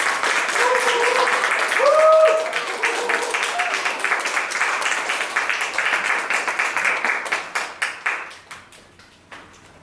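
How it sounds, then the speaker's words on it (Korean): Congregation applause at a church worship service welcomes a worship leader: loud, dense clapping with some vocal whoops early on, thinning into fewer individual claps that slow and fade toward the end. "환영의 박수 한번 보내주세요"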